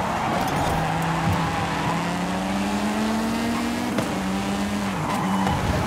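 Cars racing against motorcycles in the Forza Horizon 5 video game, a loud sustained engine whine rising steadily in pitch amid a dense roar of tire and road noise, with a brief dip near the end.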